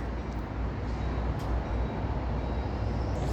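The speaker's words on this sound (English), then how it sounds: "I trust that this train is on time" A passenger train bound for Eugene stands at the Albany station, giving a steady, loud low rumble of engine and rolling stock with no voices and no clear breaks.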